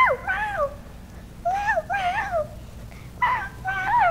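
A child imitates a cat with three groups of high, wavering meows, each pair rising and falling, clearly voiced and close, separated by short pauses during a family game night.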